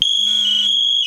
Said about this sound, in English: Make sure my manual alarm works